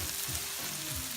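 Caramelized onions sizzling in a pan, a short, dense and steady frying hiss heard close up with no talk.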